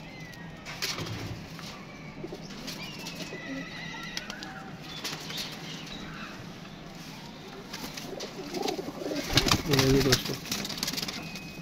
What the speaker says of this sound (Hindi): ये बटेरा कबूतर छत वाला कबूतर है